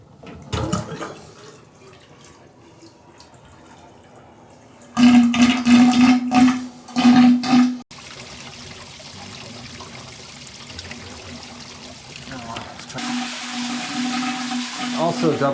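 Water pouring and draining through household plumbing pipes during a full drain test, a loud rushing burst midway followed by a steadier flowing hiss, with a low hum underneath and brief talk early on.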